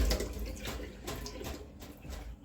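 Water is poured out as a soaking liquid, a close splashing, trickling flow that is loudest at the start and tapers slightly, with no voices.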